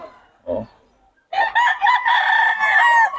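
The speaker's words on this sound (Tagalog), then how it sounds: "Ganda ng mga manok ni Boss Russell mga idol." A brief cluck, then a loud, drawn-out rooster crow close by.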